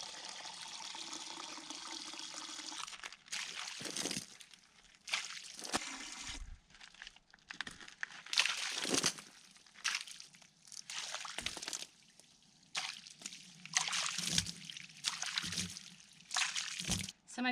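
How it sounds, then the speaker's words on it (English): Bucketfuls of water splashed onto a wall before lime pointing work, repeated loud sloshing bursts separated by quieter gaps, close by. "so I'll be splashing it with a bucket"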